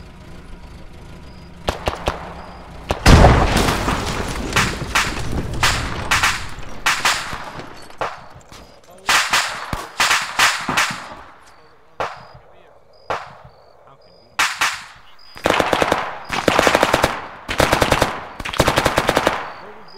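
Automatic gunfire from the video game ArmA 3 comes in repeated loud bursts of rapid shots. Short pauses separate the bursts, and rounds keep coming in a night-time zombie survival firefight.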